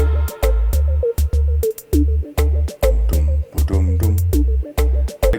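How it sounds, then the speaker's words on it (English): Studio drum beat with a big, booming kick hitting in a steady groove and crisp hi-hat ticking in the background, loud and alone with no voices. "And without it, just the drums."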